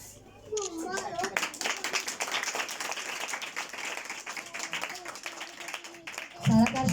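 Audience clapping for children receiving Christmas gifts at a school Christmas event, steady applause filling most of the stretch with a voice speaking over it and a louder burst near the end.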